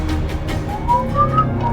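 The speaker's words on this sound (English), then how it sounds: "a jaunty whistle echoes through the halls of the prison" A jaunty whistled tune drifts through prison halls in the video game Choices, light rising notes heard over a steady low musical background, moderately loud and slightly distant.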